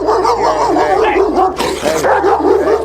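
A dog judged vicious barks and yelps loudly and close by as people try to catch it, with repeated barks and short cries under raised voices.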